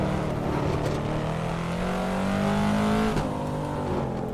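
A Corvette C7 Stingray in the Assetto Corsa racing game drones steadily, its engine note sliding and climbing as the car downshifts, then blipping once before settling under faint background noise.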